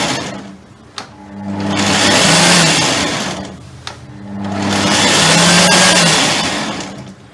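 An electric chopper pulses through chunks of pineapple in two loud bursts, each whirring up, holding and winding down, with a small click at the start of each, close up and without talk.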